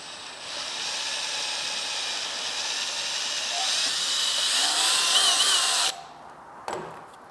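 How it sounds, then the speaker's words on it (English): A power drill with a sharp bit whines continuously at close range as it bores a hole for a mudflap in a Vespa GTS fender, the pitch rising slightly before it stops abruptly, followed by a brief clunk. "I have a nice sharp drill bit that's not going to walk on me"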